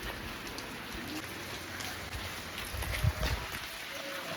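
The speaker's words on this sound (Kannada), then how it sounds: "ಮಳೆ ಬರುತ್ತೆ ನೋಡಿ" Rain falling outdoors near a temple, a steady close hiss of drops on surfaces with a few heavier low thumps partway through, and no clear talking.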